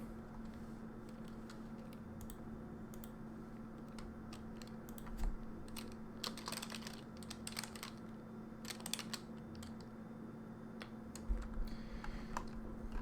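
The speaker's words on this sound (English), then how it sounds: "the keyboard can still be heard" Faint computer keyboard typing comes in scattered bursts of soft clicks over a steady low hum, with longer quiet stretches between the flurries of keys.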